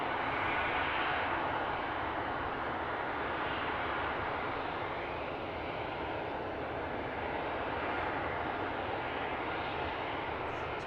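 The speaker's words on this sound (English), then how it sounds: "As we watch the Ryanair ready in for takeoff" A Ryanair jet airliner at Luton Airport gives a steady, loud engine roar that holds evenly throughout, with no talking.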